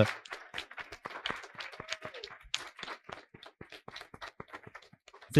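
Scattered applause from a debate audience, sparse individual claps in an uneven patter, fairly close and moderate in volume.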